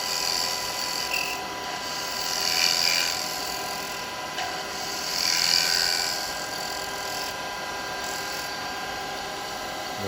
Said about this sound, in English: I'm going to do a little scrape here